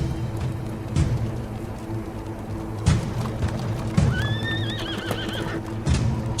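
Horses arrive with steady clip-clopping hooves and loud thumps, and partway through one horse gives a clear, wavering neigh over the hoofbeats.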